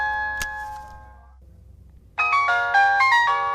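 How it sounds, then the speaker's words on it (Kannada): A phone ringtone sounds, first a sustained tone with a sharp ding, then after a brief pause a louder melodic ringing pattern starts and repeats, with no talking. "ಫೋನ್ ರಿಂಗ್ ಆಗ್ತಾ ಇದೆಯಪ್ಪ."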